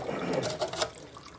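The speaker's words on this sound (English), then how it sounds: "I'm going to pour my sugar into the 4 quarts of water." Granulated pure cane sugar poured into 4 quarts of water in a pot, a steady close hissing pour with a soft watery swirl, lasting just over a second.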